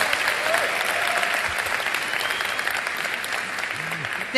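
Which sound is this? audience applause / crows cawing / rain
audience applause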